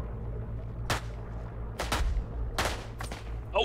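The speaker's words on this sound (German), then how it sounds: "Jetzt haben sie wieder einen Berg bombardiert." Artillery shelling of a mountain in the World War I shooter Isonzo: sharp, distant blasts cracking out one after another, roughly five impacts over a low rumbling background.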